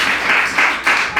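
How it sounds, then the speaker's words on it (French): Church congregation applauding during a worship service, a short burst of clapping with rhythmic swells, fairly close and steady with no talk over it. "acclamons pour la parole"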